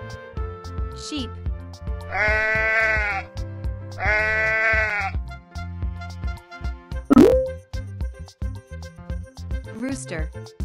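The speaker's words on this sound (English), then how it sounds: "Sheep." Sheep bleating in two long, loud wavering calls close by, followed by shorter bleats and a plopping sound, with light background music throughout.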